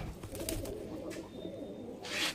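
Fancy pigeons at a breeder's home sale give soft, low, rolling coos close by, with a louder burst near the end and no talking.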